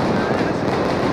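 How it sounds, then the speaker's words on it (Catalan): Gunpowder fireworks burst around a towering 20-metre monumental falla during the Valencia cremà at the city hall square, a dense, continuous roar of crackling explosions with no gaps, loud and close. "La pólvora envoltava a tota aquesta monumental falla, aquests 20 metres d'alçada, una pólvora que acaba d'esclatar"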